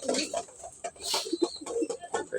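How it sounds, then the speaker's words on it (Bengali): Domestic pigeons eating millet coo in low, repeated murmurs close by, with a few rustles between calls. "দেখেন আমার দেশি কবুতর"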